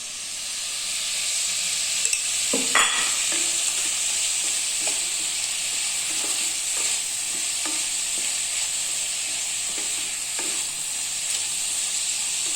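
Onions sautéing in hot oil for vegetable kurma, giving a steady close sizzle and hiss with occasional scraping stirs of a spoon in the pan, no voices.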